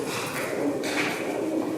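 Pigeons coo in a derelict house with an abandoned pool: soft, low throaty cooing repeats steadily and fairly close throughout, with no talking over it.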